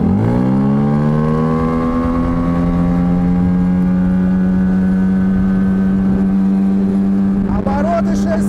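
A Tohatsu 9.8 outboard boat motor revving up and then holding a loud, steady high-rev whine, close and continuous, with a brief voice near the end.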